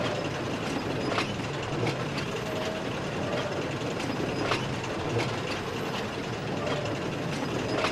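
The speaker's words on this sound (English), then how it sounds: "Ashley the purple diesel was taking a late-night goods train to Henrietta Town station." A diesel locomotive hauls a late-night goods train, a steady rumble and rolling rail noise with irregular clicks and clacks from the wheels passing over joints, continuous and fairly close, with no talk.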